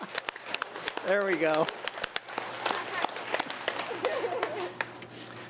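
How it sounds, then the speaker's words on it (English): Town council meeting audience clapping with arms held straight out like seals, a scattered, uneven patter of many hands under a brief spoken remark. "You put your hands out straight like this, and then you clap, okay, like a seal"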